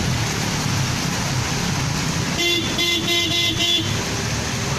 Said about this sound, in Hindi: अभी बहुत तेज़ी से बारिश जारी है।